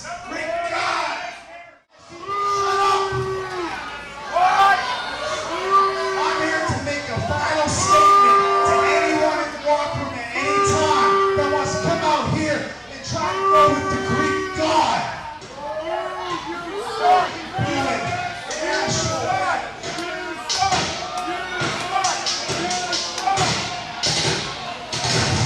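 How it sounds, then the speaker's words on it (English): A wrestling arena crowd chants and shouts in loud repeated bursts at a steady rhythm, with thuds and chatter underneath throughout, filling the space after a brief lull near the start. "everybody's saying what because they can't hear him"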